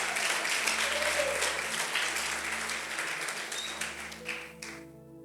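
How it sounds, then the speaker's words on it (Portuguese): A church congregation applauds in a steady burst of many hands over a low sustained organ-like hum, the clapping thinning out near the end as a few tones linger. "Vamos aplaudir o Senhor então mais forte,"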